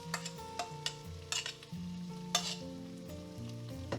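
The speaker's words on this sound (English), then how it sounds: "It will sizzle when the oil is hot enough." Egg-free potato pancake batter sizzling in hot oil with a steady crackle, broken by occasional scraping and clinking of utensils, with faint tones in the background.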